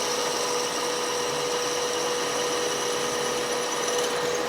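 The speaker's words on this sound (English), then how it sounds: "Now we're going to run the normal drill down. This is the tapping drill, the 7 mil." A 7 mm tapping drill bores into a Cosworth engine part toward the oil gallery, giving a steady, continuous machining whir with a constant high tone, close and unbroken, with no talk.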